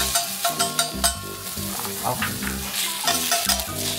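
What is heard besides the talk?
shrimp frying on a hot griddle pan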